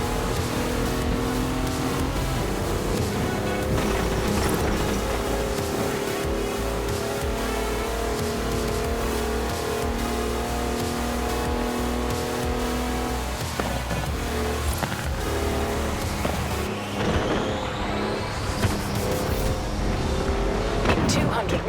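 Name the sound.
car driving in video game Forza Horizon 4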